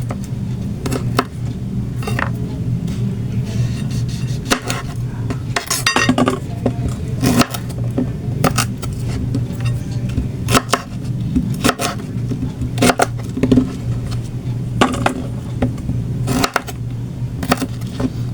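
Okra and other vegetables being cut for ginisang gulay with crab, a steady series of sharp knife chops on a board mixed with occasional clinks of dishes and utensils, close and loud with no talk.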